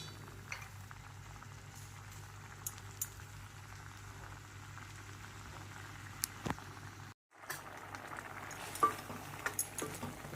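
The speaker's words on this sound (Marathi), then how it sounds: "चांगली उकळी." White-eyed peas curry, thick and in large quantity, boiling in a pot: a faint, continuous bubbling and popping patter with a low steady hum underneath and a momentary dropout near the end, no voices.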